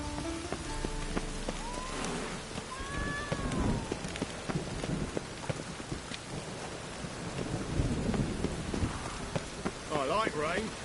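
Rain pours in The Witcher 3: Wild Hunt, a steady patter on surfaces with low rumbles of thunder, while brief game tones and voice-like sounds sit faintly in the mix.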